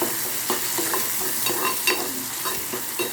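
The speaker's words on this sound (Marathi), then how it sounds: "मी थोडी कोथिंबीर फोडणीला टाकते" Close, continuous sizzling of coriander frying in hot oil for tempering, with small crackles and pops scattered across a steady hiss.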